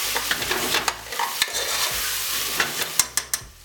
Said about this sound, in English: Fry this up.